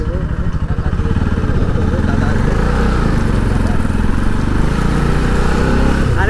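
Bajaj Pulsar NS200 motorcycle engine running close by, a loud steady throbbing drone with some rising revs at the start, continuing without pause throughout.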